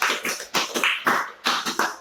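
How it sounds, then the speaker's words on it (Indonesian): Children in a classroom clap for their classmates in a rhythmic patterned sequence of sharp, close claps grouped in short bursts with brief gaps. "Tepuk tangan ayo buat teman-teman."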